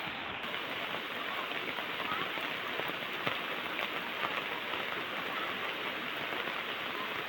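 Heavy rain pours down in rural Konkan during a monsoon crab-catching outing, a dense, even hiss of close rainfall with scattered sharper drop hits throughout and no voices.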